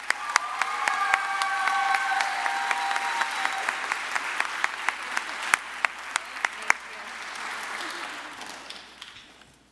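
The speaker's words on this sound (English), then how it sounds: "Round of applause again for these All-Staters" A crowd applauds All-State band students at a school band's end-of-year gathering, a sustained clatter of hands with a few sharp, close claps standing out and some faint voices underneath.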